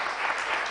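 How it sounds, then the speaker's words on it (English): A moment of dense, even applause from a conference audience at a business supply-chain event, heard briefly with no voices over it. "Let's give him a big round of applause"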